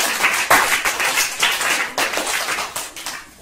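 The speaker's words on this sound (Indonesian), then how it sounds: "Tepuk tangan untuk kelompok" Classroom applause for a presenting group of students, a short burst of loud, close, uneven clapping that pulses and fades out.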